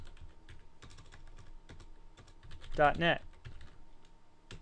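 Typing on a computer keyboard, with quick bursts of key clicks close by and someone speaking over them.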